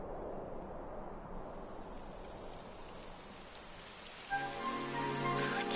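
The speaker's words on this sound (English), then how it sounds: "It would have to go and start raining, wouldn't it?" Steady rain patters down in the video game Hi-Fi Rush across the whole stretch, a broad hiss of drops, joined near the end by a brief tonal musical note rising over it.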